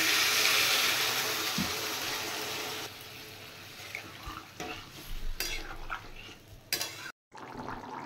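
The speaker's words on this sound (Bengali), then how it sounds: "এবার একটু মশলাটা কষিয়ে নেব।" Spices with salt, turmeric and a little sugar are stir-fried in a pan for a shola kochu and potato curry: a soft sizzle at first, then quieter, scattered scrapes and clinks of a spoon against the pan, with no talk.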